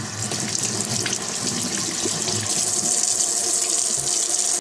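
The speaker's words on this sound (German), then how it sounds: "wasche ich das immer erst nochmal mit Wasser einfach ab." Tap water runs steadily into a kitchen sink as raw chicken is rinsed under it, a continuous close splashing gush that stops abruptly at the end.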